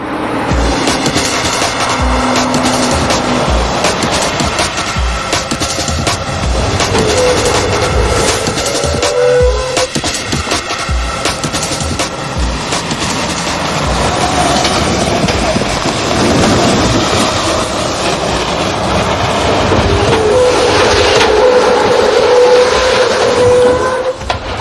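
A vehicle driving at speed on the WABCO test track in Djeversen during stability-control trials, a loud, unbroken roar of engine, tyres and wind that holds steady throughout.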